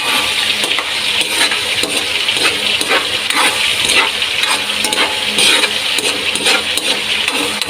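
A ladle stirs and taps in a frying pan during home cooking, scraping and clinking over a constant loud sizzle of frying food, with a few sharper knocks scattered through and no talking.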